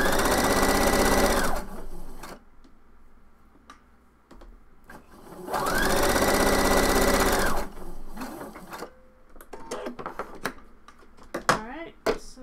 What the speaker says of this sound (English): And just sew it the other way.